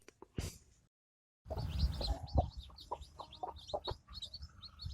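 A brood of nine newly hatched chicks chirps in quick, overlapping high peeps while a mother hen clucks low and close, after a brief silence near the start.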